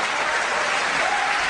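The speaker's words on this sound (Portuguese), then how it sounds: "Aplauda Jesus por isso" A brief burst of dense congregational applause at a Brazilian Christian church service, a loud, continuous wash of clapping with no gaps.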